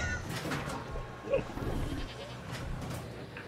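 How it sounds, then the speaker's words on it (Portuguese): A goat in Jurassic World Evolution 2 gives a few wavering bleats at moderate volume over a continuous game ambience, with one brief sharper sound in the middle. "Ih, rapaz, olha a cabra ali."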